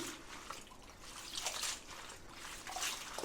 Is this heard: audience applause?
no